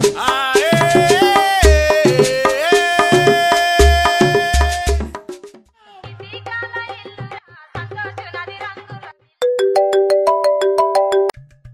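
A mobile phone ringtone plays as someone places a call: a loud, melodic synthesized tune in several bursts with short pauses between them, heard alone and with no talking.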